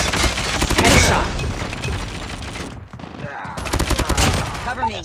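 The RUS 79U fires rapid full-auto bursts from the hip in COD Mobile. The close, loud crackling volleys briefly pause near the middle, then resume with dense, rhythmic shots.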